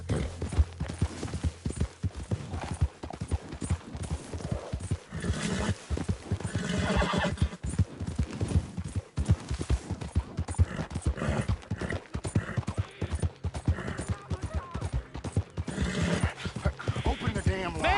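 A horse in Red Dead Redemption 2 gallops with rapid, rhythmic hoofbeats close by, broken by neighs and whinnies, while voices come and go over the hooves.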